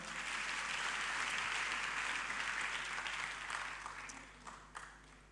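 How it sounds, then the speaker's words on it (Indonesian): Congregation applause at a church prayer fellowship service, a broad sustained wash of clapping that holds steady and then tapers off into scattered final claps. "Boleh kalau mau tepuk tangan buat papa saya?"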